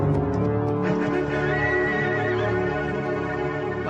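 A horse neighs in a long, loud, quavering whinny that holds steady for several seconds over a constant background, with a faint hoof clop early on.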